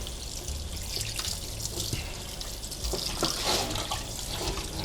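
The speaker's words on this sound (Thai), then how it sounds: "ล้างน้ำเปล่านะครับ" Running tap water pours and splashes as a tilapia is rinsed by hand in a sink, a steady close-up rush with shifting splashes.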